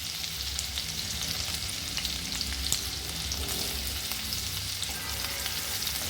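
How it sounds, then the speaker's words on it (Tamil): Capsicum sautés in a pan for paneer bhurji, a constant close sizzle and crackle of frying with faint stirring, no one speaking. "இதை நல்லா வதக்கிக்கலாம்."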